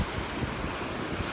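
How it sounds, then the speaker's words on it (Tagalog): Strong sea waves surge and wash continuously at a stormy beach after a typhoon, a steady broadband roar mixed with wind buffeting the microphone, loud and unbroken with no voices. "Dito, talagang malalagkas ang alon dito."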